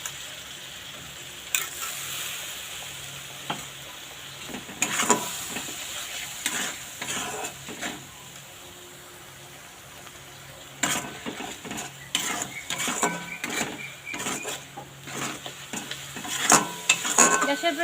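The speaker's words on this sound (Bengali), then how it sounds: "মশলাটাকে খুব ভালোভাবে কষাতে হবে।" Spice paste for a pangas fish curry sizzles and fries in a pan over medium-low gas, a splash of water added, while a spoon stirs and scrapes through it in repeated bursts with occasional clinks against the pot.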